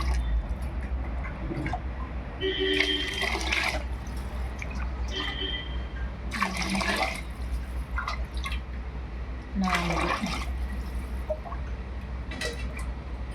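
Water is poured into a cooking pot to boil for tomato rice, giving a steady trickling and splashing that comes in several separate bursts, close by over a constant low background hum.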